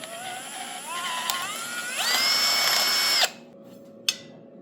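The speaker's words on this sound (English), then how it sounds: "this should help me drill a hole in this, at least drill out the hole in it" A stubby half-inch power drill whines into an old 60-year-old boiler, its pitch rising as it bites into the metal. It runs steadily for about three seconds, then stops abruptly, and one brief click follows.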